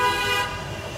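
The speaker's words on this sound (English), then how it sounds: "appreciate the pretty city views, but also the honking and all of the traffic" A car horn toots once, loud and close, in busy city traffic, over a low rumble of passing vehicles.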